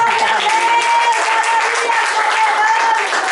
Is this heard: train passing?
no